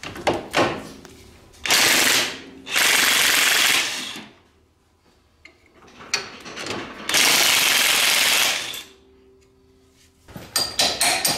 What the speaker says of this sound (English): Now to remove the bolts that hold the bottom of the shock.